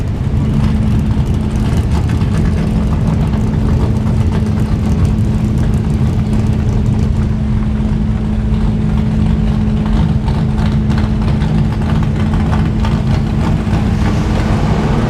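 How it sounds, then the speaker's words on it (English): Turbocharged V6 Buick Grand National on a drag strip during a race meet, a loud, steady engine roar with a droning note that holds for the whole run, no voices heard. "Buick, turbocharged, V6, for Grand National, making a good shot."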